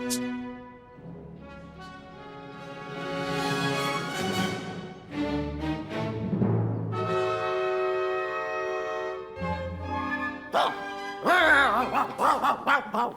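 People imitate dogs in a Hindi comedy episode, a series of sung-like barks, yips and howls that rise and fall across the stretch, loud and close with music swelling beneath.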